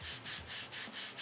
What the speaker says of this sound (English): I'm still sanding.